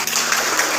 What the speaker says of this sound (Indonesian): Bisa tepuk tangan untuk pendapat dari Mbak Septi dan Mbak Putri